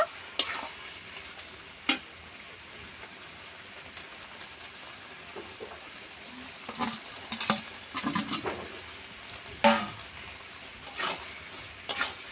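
Fried shrimp are stirred into a banana stem and potato curry in a pot, giving a faint low simmer broken by scattered scrapes and taps of a spoon, quiet and close with no talking.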